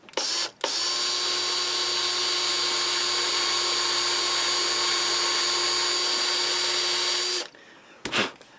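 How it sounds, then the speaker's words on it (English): A power drill whines steadily at high speed for several seconds, drilling screw holes in a Telecaster guitar body, starting and stopping abruptly, close and loud, with a brief burst again afterward. "just got our drill set up here"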